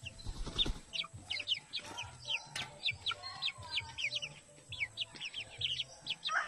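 Backyard chicken clucking faintly in a rural province garden, with many bird chirps and tweets scattered over a quiet background and a low repeating hum.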